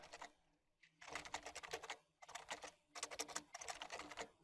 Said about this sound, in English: So I'll type